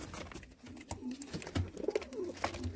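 Pigeons at a bird sale in Jammu, including pearl-marked birds, give soft low coos in a few short bursts, close by amid a busy background with faint voices.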